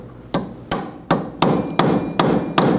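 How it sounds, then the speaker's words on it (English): Seven sharp metallic hammer strikes on a punch at a steady pace, staking the hub nut on a 2007-11 Honda CR-V rear wheel hub, each ringing briefly and close up with no talking. "Now with a punch, we're just going to peen this over."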